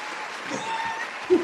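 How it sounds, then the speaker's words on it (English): Brief canned applause sound effect played during a health talk show segment, a short burst of clapping over a voice, rising just at the end. "Warm round of applause."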